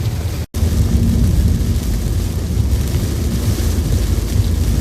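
Steady, heavy rain roars continuously against a moving car, a dense broadband wash with a brief dropout near the start and no voices.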